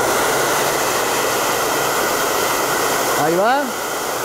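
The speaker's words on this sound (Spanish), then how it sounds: "Un secador de cabellos." A hair dryer blows with a loud, constant rushing roar close by. Near the end a voice speaks briefly over it.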